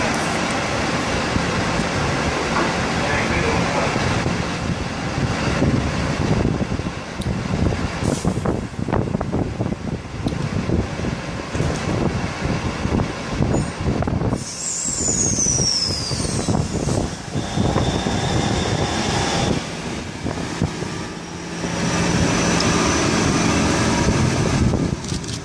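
A continuous loud rumble and roar of a Sydney-area passenger train in motion toward Maitland, heard from inside or close by, with rattling and a brief high squeal midway.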